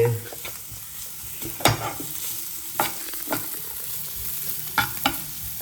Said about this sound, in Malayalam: പൊട്ടാത്ത കടുകിൻ്റെ ഇടയിലോട്ട് സവാളയും എല്ലാം കൂടെ മിക്സ് ചെയ്തിരിക്കുകയാണ്